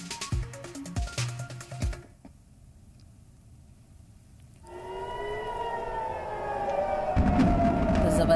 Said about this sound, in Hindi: तो जबरदस्त सायरन सुनाई दिए हैं।